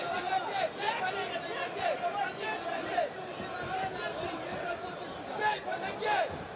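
A crowd at a combat-sports fight in 2025 roars and murmurs through the arena, rising in short swells under the continuous chatter of commentators' voices.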